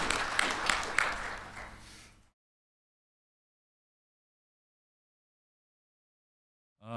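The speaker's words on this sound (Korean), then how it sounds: "수고하신 두 분의 연자분께 다시 한번 뜨거운 박수로 보내드리고 이번 세션 마치도록 하겠습니다" A symposium audience gives a closing round of applause to two speakers at the end of a session, dense clapping for about two seconds that fades out, followed by silence.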